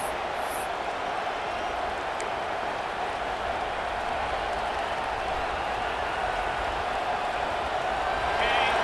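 A packed stadium crowd at an LSU college football game against Penn State roars steadily and loudly, a continuous wash of cheering throughout with no break.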